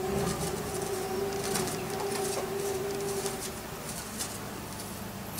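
Pigeons coo softly in the early morning amid a constant broadband hiss, with a steady low hum and occasional faint chirps and rustles, the birds close by and fairly quiet.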